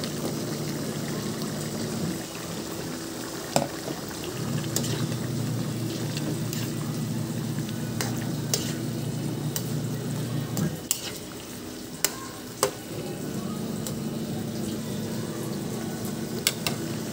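Fried hotdogs dropped into a pan of hot, seasoned liquid set a steady close sizzle going, with clinks and scrapes of stirring throughout and short pauses in the frying hiss.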